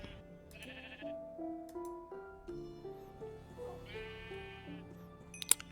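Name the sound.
sheep bleating in the video game Minecraft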